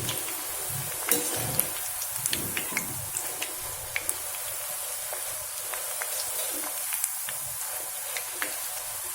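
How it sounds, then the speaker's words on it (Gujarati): Gathiya frying in hot oil in a kadai over a full flame, with a steady close sizzle and hiss and scattered sharp pops and crackles throughout. "ગાંઠિયાને આપણે ફૂલ ગેસ પર જ તળીને તૈયાર કરીશું"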